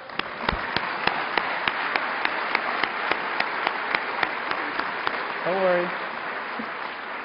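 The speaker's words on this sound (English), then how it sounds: "give them a round of applause" Applause from the audience at the DrupalCon Munich 2012 closing plenary comes through as a run of evenly spaced, sharp claps over a low room murmur, with a brief spoken phrase near the end.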